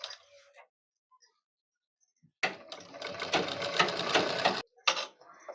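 An electric sewing machine stitches piping on a blouse, its needle whirring in a steady rapid burst of about two seconds after a quiet pause, then briefly starting again, close and fairly loud with no voices.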